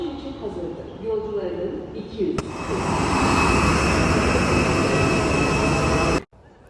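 Airport terminal ambience: murmuring people, then a loud, steady whine of jet aircraft engines swells in and holds before cutting off abruptly near the end.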